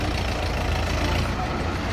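A 2023 Lovol mini tractor drives out with a continuous low engine drone and rumble, steady and fairly loud throughout, no talking over it.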